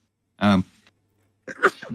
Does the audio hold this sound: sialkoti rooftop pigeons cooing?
no